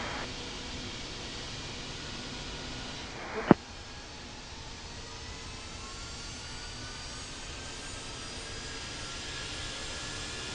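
Aircraft at Hurghada International Airport: steady broadband jet engine roar heard at moderate distance throughout, with a brief sharp click or thump early on, then a continuous even rumble with slowly shifting whine and no talk.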